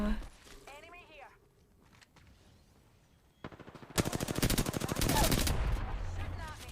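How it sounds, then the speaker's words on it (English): Rapid automatic gunfire from enemies in a video game, a sharp burst of bursts building to a loud sustained rattle near the end, after a man's brief speech. "Shooting at me."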